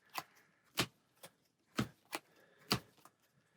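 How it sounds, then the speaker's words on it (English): Marvel Champions cards being handled, a series of sharp separate snaps and taps at an irregular pace, quiet and close with near silence between them. "So we'll go ahead and do a minor shuffle, and then start discarding, looking for a minion."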